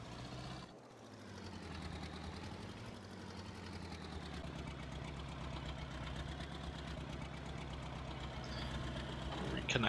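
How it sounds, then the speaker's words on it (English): Tractor engine idling in the Farming Simulator 22 video game, a steady low rumbling drone that holds throughout at moderate level, with someone talking over it at times. "Right, we will park up the tractor."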